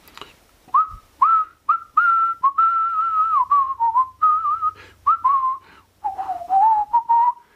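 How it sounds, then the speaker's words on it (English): A person whistles a melodic tune alone, a run of clear sustained and gliding notes in short phrases with brief pauses, close and fairly loud, while out walking over waste ground. "whistle as you go"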